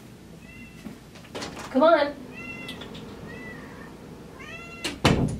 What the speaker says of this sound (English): My cat's scratching at the door.